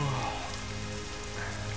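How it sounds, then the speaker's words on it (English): Steady rain in the trucking video game 18 Wheels of Steel, a dense, even hiss of falling drops that holds without a break for the whole short stretch. "Man, it's raining."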